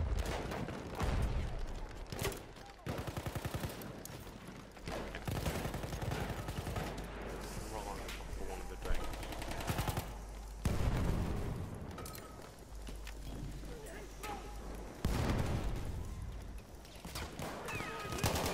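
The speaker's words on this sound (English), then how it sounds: "Good shooting, son!" Heavy, sustained battlefield gunfire from Battlefield 1, with machine-gun bursts and booming explosions, continues loud and dense throughout while a voice speaks now and then underneath.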